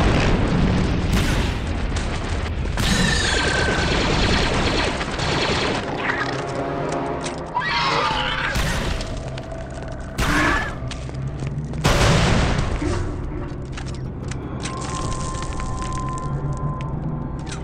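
Battle explosions and gunfire from the Star Wars Republic Commando video game, with heavy booms landing every couple of seconds over a continuous loud rumble of rapid weapon fire and sharp bursts, no talking.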